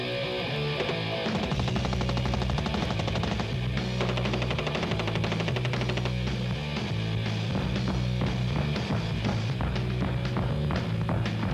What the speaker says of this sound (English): The barrel on the MPK is 6 inches long, and I'm shooting it with a 30-round magazine.